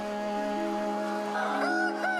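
Chickens in a poultry farm shed, still feeding just before a cull, make a steady, low, crowded murmur of clucks and squawks at moderate distance, with a few sharper calls rising near the end.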